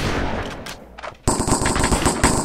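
Rapid automatic gunfire in the video game Hive server cops vs crims, a dense burst of close, loud shots, then a brief lull before a second louder, sustained volley.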